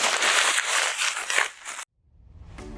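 Packing paper is crunched and crumpled into a ball, a loud, close, dense crackling that stops abruptly before a faint rustle returns.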